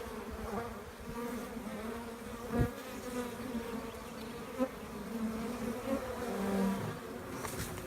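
Honeybee swarm buzzing at the entrance of a trap box holding old drawn-comb frames: a steady, dense hum of many bees close to the microphone, with individual insects whizzing past now and then.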